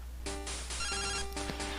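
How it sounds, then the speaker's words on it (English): An incoming phone call from Mom rings in Pokemon Crystal as a bright electronic chiptune ring, several rapid repeated pulses at moderate volume over a faint steady background, with no voices. "Oh, a phone call from Mom."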